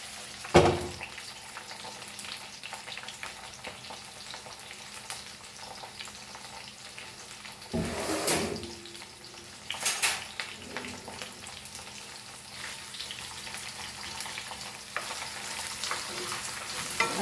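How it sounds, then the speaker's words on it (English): Ground masala paste frying on high flame: a steady, soft sizzle runs throughout, broken by a few louder spattering bursts as the paste is stirred, with no talking. "This is the masala which is I ground it to paste, and now we'll fry this"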